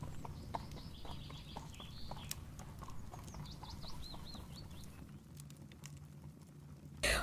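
Horse hooves clip-clop at a steady walking pace through a told story, with a faint whinny-like call near the middle and a sharp burst of noise at the end.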